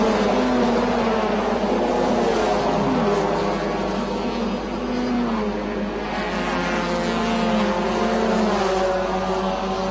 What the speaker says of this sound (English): you might think they're like motorcycles. Small CZ engines buzzing around like hornets